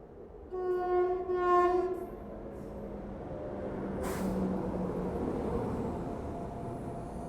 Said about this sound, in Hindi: अभी देखिए एक और किसी ट्रेन को यहाँ से ओवरटेक कर रही है हमें महरौली में